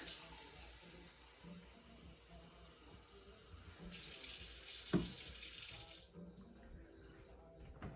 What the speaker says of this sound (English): Okay, warm water.